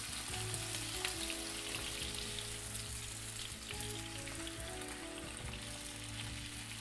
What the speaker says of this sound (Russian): начну обжаривать картофель